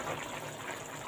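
Water boiling in a pot for rice with green fava beans, a steady broadband rushing and bubbling that holds at an even level through the short stretch, with no talk.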